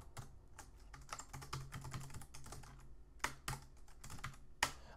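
Typing on a computer keyboard while coding a chatbot: quick, close clattering keystrokes in uneven bursts with brief pauses and a few sharper key hits, on their own without any voices.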